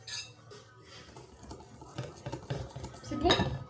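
A utensil stirs and mixes something in a bowl during a kitchen challenge, close scraping and clinks in uneven strokes, with a sharper clink near the end.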